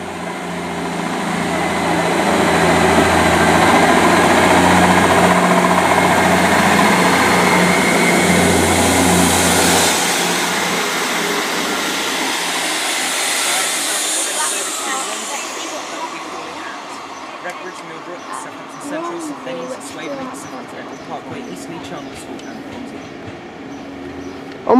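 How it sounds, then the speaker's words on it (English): South West Trains class 158 diesel unit 158883 pulling out of Romsey station on the 11:20 service, its engine loud and close at first, then fading as wheels clatter on the rails. "departing now is 158883 of the 11:20 Southwest train service to Romsey"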